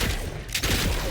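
A Discharger laser pistol fires in Fallout 4, one short heavy burst cracking through background game noise, loud and close, with a brief quieter gap before it.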